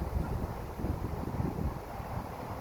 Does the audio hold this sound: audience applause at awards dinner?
no